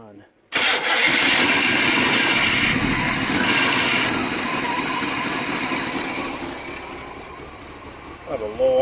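An engine cranks and catches abruptly, then settles into a steady, loud low idle that slowly fades a little, with a voice briefly heard at the very end.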